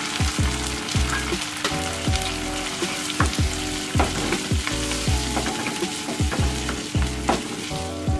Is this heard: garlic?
yes